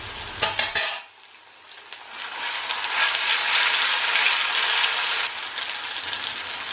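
Curry leaves frying in hot oil in a pan: a brief clatter at the start, then a steady, close sizzle that holds without any talk.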